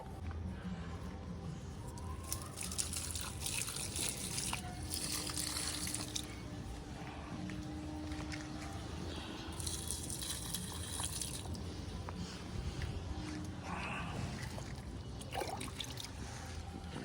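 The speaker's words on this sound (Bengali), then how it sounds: "চলো আপাতত গাছগুলো জল দিই" Water runs steadily outdoors as potted garden plants are watered, a continuous close splashing and trickling stream with brief louder gushes, no voices.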